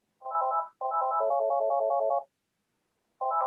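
A phone rings during an online meeting, giving electronic warbling ring bursts: a short burst, then a longer one, and another starting after a silent gap, clear and steady with no voices over it.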